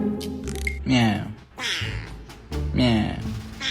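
A cat meows up close, two or three drawn-out, rising-then-falling cries separated by short pauses.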